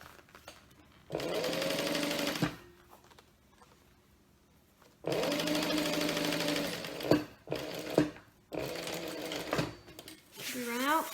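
A domestic sewing machine stitching a bag in a home sewing room runs in three bursts of steady whirring, separated by pauses, with a voice talking between and over the runs.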